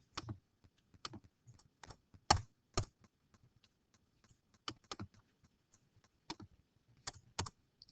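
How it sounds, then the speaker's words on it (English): Backspace key pressed repeatedly on a computer keyboard while formatting a cover letter, sharp close clicks coming singly and in short bursts, with quiet gaps between. "I'm going to go ahead and backspace"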